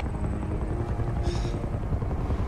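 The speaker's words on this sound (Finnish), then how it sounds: "Nyt tulee joku kopteri." A helicopter approaching in the game Uncharted 2: Among Thieves, its heavy rotor thump rumbling steadily and loudly throughout with a brief whine rising over it.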